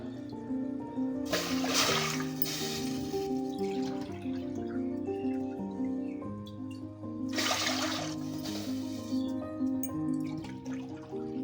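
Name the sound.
water being poured from a glass into a pot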